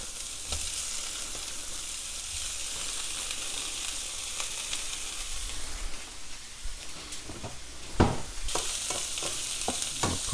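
Italian sausages browning in olive oil in a pan, giving a steady, close sizzle and crackle with occasional sharp pops and stirring clatters, loudest near the end, with no talking.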